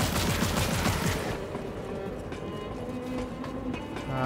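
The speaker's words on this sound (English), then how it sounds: "Is there a shield guy shooting at me too?" A shield-carrying enemy in the Immortal Unchained video game fires steadily, producing dense, loud, rapid gunfire that fills the scene. The gunfire eases after about a second into a sustained rumbling battle din.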